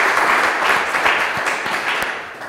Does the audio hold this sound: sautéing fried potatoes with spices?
no